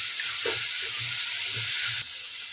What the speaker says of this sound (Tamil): அப்போ தக்காளி சேர்த்து கூட வதக்கிக்கணும் தக்காளி வதங்கும் போதே உளுத்தம் பருப்பும் எண்ணெய் பாதி நல்லா வறுத்து வந்துடும்